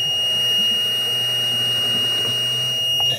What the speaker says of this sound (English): that's a little alarm that I put on there, a high water alarm